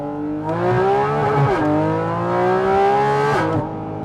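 A Porsche GT4 RS engine revs up through the gears merging onto a highway, its pitch climbing, dropping at a shift, then climbing again in a loud, close interior drone.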